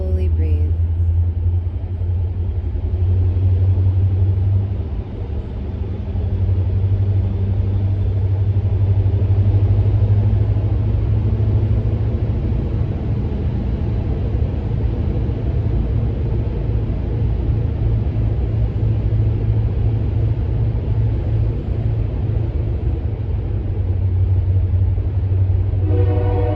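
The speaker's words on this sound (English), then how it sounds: "as this train goes by" A passing train rumbles steadily and heavily for nearly half a minute, a low continuous roar that stays close and loud throughout, with faint talk now and then.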